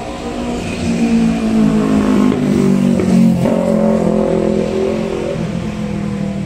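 Continuous roadside traffic along a street where a Viar Karya 150 L three-wheeled motorcycle is being serviced, with steady engine rumble and vehicles passing and accelerating nearby, fairly loud throughout.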